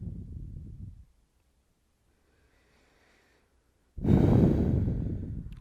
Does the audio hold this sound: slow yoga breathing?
yes